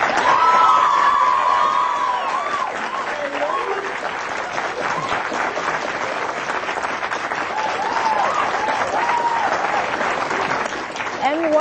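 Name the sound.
audience applause after a debate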